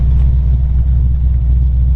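A 1950 Ford Custom Deluxe with a 302 four-barrel V8 idles steadily close by, a deep continuous rumble with a low throb and no speech over it.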